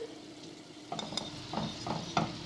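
Celery leaves, chopped coriander and mint are stirred into vermicelli soup, producing several soft scraping clinks of a utensil against the pot over a quiet background.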